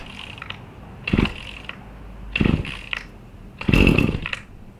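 A Husqvarna 525 RX chainsaw is pull-started on cold start with three separate cord yanks, each a short rattling churn of the engine turning over without catching, with quiet pauses between pulls.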